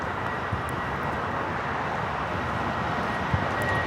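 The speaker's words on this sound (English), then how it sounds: "United 757 now rolling down." A United Airlines Boeing 757 rolls down the runway for takeoff at Los Angeles International Airport, its engines heard as a steady, distant broadband roar that holds even in level throughout.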